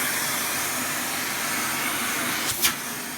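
A household vacuum cleaner runs at full power during an indoor test, a loud, constant rushing whoosh with a brief click near the end.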